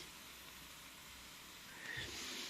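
Wet wood hisses as it burns in the firebox of a diesel branch chipper setup, a steady broad hiss that swells louder toward the end, close and without talk.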